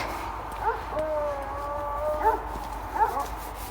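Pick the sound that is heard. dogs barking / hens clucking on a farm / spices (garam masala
dogs barking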